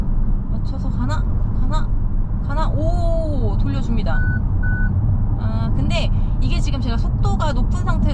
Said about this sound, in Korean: 조향 제어가 일시 해제됐다고 경고음이 뜨면서